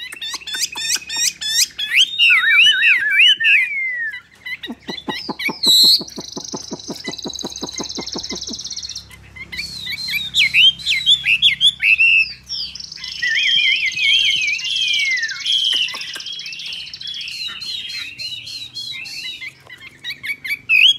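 A caged hwamei, the Chinese melodious laughingthrush, sings loud and close in long bursts of rich, varied whistled phrases, broken by a stretch of rapid harsh chattering and short pauses between runs.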